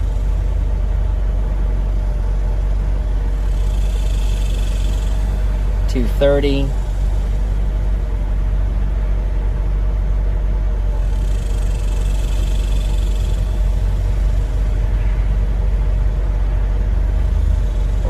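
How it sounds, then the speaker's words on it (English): A C4 Corvette engine idles steadily with its primary cooling fan running as a constant low rumble and whir, while someone talks briefly over it partway through. "So you can tell that primary cooling fan is on."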